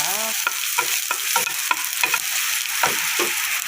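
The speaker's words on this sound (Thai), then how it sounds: "ใส่กระเทียมได้เลยผัดจนหอมนะคะ" Garlic sizzles loudly in hot oil while a utensil scrapes the pan in a steady stirring rhythm.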